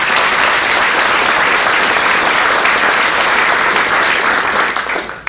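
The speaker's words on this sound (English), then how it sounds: "that deserves a round of applause" Loud, close applause from a crowd at a groundbreaking ceremony, a thick wash of clapping sustained for about five seconds before quickly dying away.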